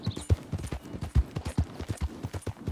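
Hooves of a mare clip-clopping in Red Dead Redemption 2, a steady, uneven walking rhythm of close, soft thuds, heard alone without speech.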